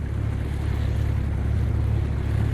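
A sailing boat motors across open sea off the Isles of Scilly, its Bucker engine chugging as a low steady throb beneath constant wind and wave wash, with no talk.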